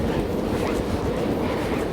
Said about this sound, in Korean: 건너편에는 지금 열차가 지금 가는 소리가 나는데요